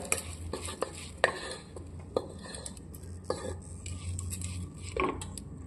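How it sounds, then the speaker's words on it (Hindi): Moong beans and dal stirred together in a metal pot with a spoon, giving repeated scraping and clinking strokes at an uneven rhythm over a low background hum, close and moderately loud, with no talking. "आतां बरें मिक्स करता मूग आनी दाळ"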